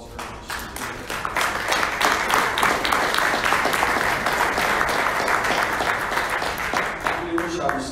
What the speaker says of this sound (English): she deserves a round of applause for her